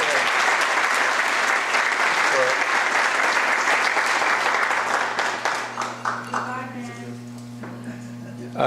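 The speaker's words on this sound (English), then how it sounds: "Let's give them a round of applause" Dense, loud applause from a community foundation gathering for a departing band, steady for about five seconds before thinning into scattered claps as a low hum remains underneath.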